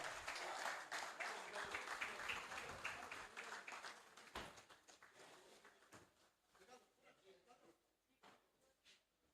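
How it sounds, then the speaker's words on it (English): Audience applause at a workshop award ceremony honouring an honorary doctorate, a dense wash of clapping that is strongest at first and then thins out and fades over several seconds. "Please give a big clap."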